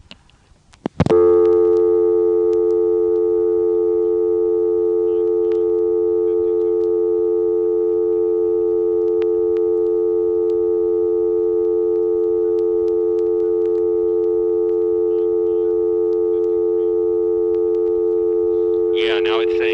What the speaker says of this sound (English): Let's listen and see if we hear that on the dial tone again.